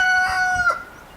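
A rooster on a backyard chicken-coop farm gives a short, bright crow, clear and fairly close, cutting off after about a second with no one speaking.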